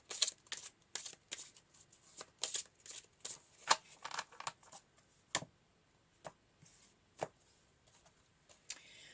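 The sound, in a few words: shuffling tarot cards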